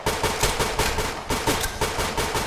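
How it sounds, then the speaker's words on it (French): Rapid automatic gunfire in a shooter video game, a loud close burst of evenly spaced shots, about eight per second with a short break midway, no talk. "Tu lésines pas sur les coups de feu, toi."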